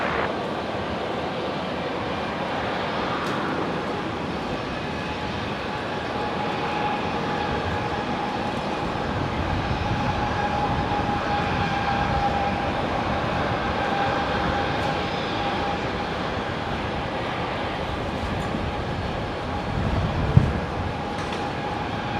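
A jet airliner lands on runway 19 left at Brisbane International Airport, a steady broad roar of engines and rushing air that holds loud and even throughout, with no voices.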